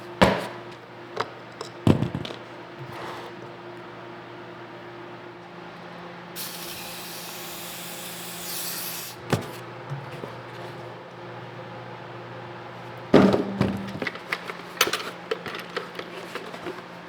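Cleaner is sprayed onto a car's mass airflow sensor and airbox in a few short, close hissing bursts, with one longer spray in the middle and faint clicks and handling noises in between.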